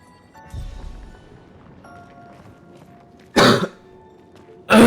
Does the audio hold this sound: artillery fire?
no